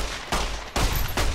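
Gunfire in the video game Fallout New Vegas: three quick bursts of shots, fairly faint, with no talk over them.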